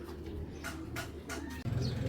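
Racing pigeons, a pipe grizzle pair, coo in soft repeated throaty calls close by, with a few brighter chirps and some faint background noise.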